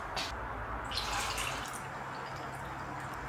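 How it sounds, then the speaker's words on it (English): Fresh water poured into a pot of rasam, a steady wash of liquid streaming and splashing close by for a few seconds, with no talking. "Fresh water to the rasam as we want it to be nice, good, fluid consistency"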